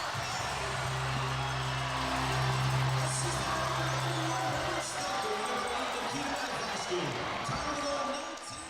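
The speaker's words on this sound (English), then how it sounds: "let's listen to Frank Purdy and this crowd go nuts" A hockey arena crowd erupts after a game-tying goal completes a second two-goal comeback in Binghamton Black Bears vs. Carolina Thunderbirds, a loud sustained roar filling the whole stretch with low droning tones running beneath it.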